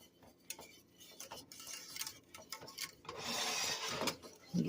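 Alfredo cream sauce being stirred in a pot on the stove, a spoon clicking and tapping against the pot in an irregular rhythm, fairly quiet, with a stretch of bubbling hiss near the end.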